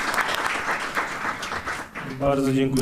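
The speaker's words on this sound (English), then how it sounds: "Applause." Audience applause at a film screening introduction, steady clapping for about two seconds before it fades and a voice begins speaking.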